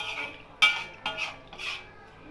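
A spoon clinks and scrapes inside a pot while mango kulambu is stirred. There are three or four distinct metallic knocks, quiet and close, with no talking.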